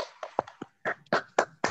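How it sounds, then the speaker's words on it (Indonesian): A small group of people clap for their teacher in an online school math class, sparse separate hand claps in a short irregular burst, fairly faint and close, with no talking. "kita berikan tepuk tangan untuk Bu Dwi dulu"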